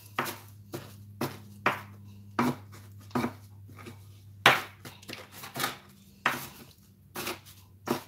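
A knife chops down through toffee cookie dough into rectangles on a board, with a dozen or so sharp, separate taps at an uneven rhythm, close and clear over a faint steady hum with no talking.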